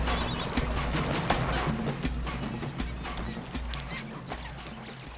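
Flocks of wading flamingos under a coordinated predator attack, heard as a dense, continuous honking and gabbling din of many birds at steady volume, with no talk.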